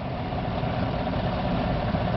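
Car engine idling under the hood during an alternator ripple test with a Topdon AB101 tester, a steady low rumbling hum with no revving, close and even throughout.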